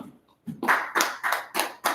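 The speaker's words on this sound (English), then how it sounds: "Let's clap it up, y'all." Rhythmic group clapping at an evening scripture class in Baltimore, five or six sharp, evenly spaced claps in a steady beat after a short quiet start.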